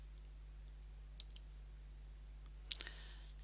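Computer mouse clicks in a quiet room over a steady low electrical hum, two faint clicks followed a little later by a sharper, louder cluster of quick clicks.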